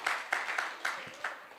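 A church congregation claps during a Holy Week evening service, a short burst of irregular, bright hand claps in quick succession from a small crowd nearby.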